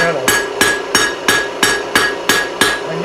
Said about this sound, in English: I always move the metal underneath my hammer, so I have a consistent hammer blow.